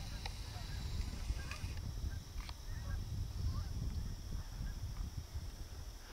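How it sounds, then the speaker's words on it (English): A flock of geese honks far off as it passes over a soybean field. The calls are faint and scattered beneath steady outdoor wind and rustle, with no talking. "there goes a bunch more geese over that way"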